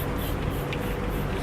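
Water spray bottle misting bees during a beehive inspection, a steady soft hissing spray that runs evenly and close throughout the short moment.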